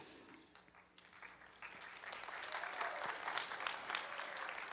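An audience at an 8th grade graduation ceremony claps, beginning softly and swelling into sustained, dense applause heard from a distance.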